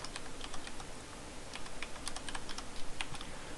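Close, crisp clicking of a computer keyboard as a command is typed, irregular keystrokes clustering into quick runs over a faint background hiss.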